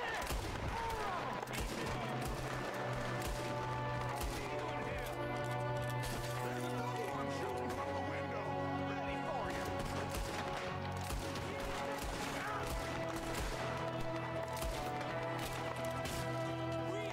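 Gunfire in Red Dead Redemption 2, with repeated gunshots spread through a busy game soundscape of music and hoofbeats, and a voice talking over it.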